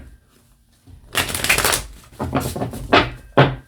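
A Nefertari tarot deck with gold-foil cards is shuffled close up, a few quick riffling bursts of card noise broken by short pauses.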